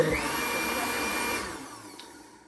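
A blender whirs loudly at steady speed through cassava and plantain for fufu, then winds down and fades as the motor slows, close with no talk.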